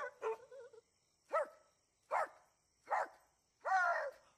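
A dog barks five times at a moderate distance in a steady, evenly spaced rhythm, with no talking over it.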